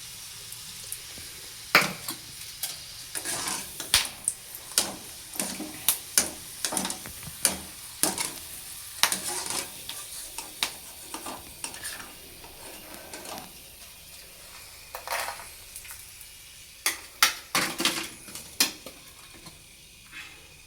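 Peanuts for masala peanuts are stirred and dry-roasted in a pan, making repeated scraping clatters in irregular bursts over a faint background hiss, with no voices.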